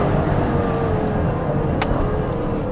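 Inside an Aston Martin V12 Vantage with an 8-speed automatic, the engine drones loud and steady on the move with road rumble, a brief sharp click standing out partway through.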